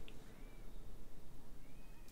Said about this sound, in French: Ça, c'est un miaou de bonjour.